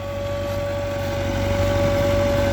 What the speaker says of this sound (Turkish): Arkadaşlar biraz da motorun sesini duyun